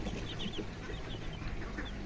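Aseel and desi chickens on a small farm, with soft clucks and a few higher calls rising over a steady, close background of farmyard noise with no talking.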